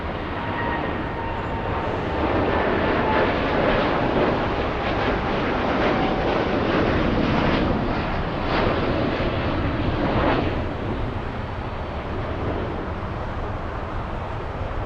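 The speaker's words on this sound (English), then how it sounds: "we'll go for the 787 Dreamliner" A United Boeing 787-10 Dreamliner jet airliner at LAX gives a steady, loud broadband roar that holds for about ten seconds, then eases slightly, with no talk.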